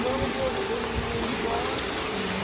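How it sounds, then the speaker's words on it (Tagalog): Steady rain pours down beside a river in flood at night, a dense continuous hiss with rushing water underneath, close and even throughout with no talk. "sana matapos na yung ulan"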